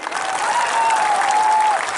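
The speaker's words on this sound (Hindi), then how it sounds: "ताली दीजिए इनको।" Applause from a large crowd at a Tipra Motha political rally on an outdoor ground, loud, steady and dense for the full two seconds, with a faint sustained tone running through it.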